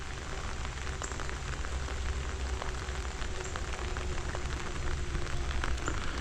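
Steady rain falls on a very wet, messy day at a cemetery in southern West Virginia, a dense continuous patter with scattered nearby drips, no voices.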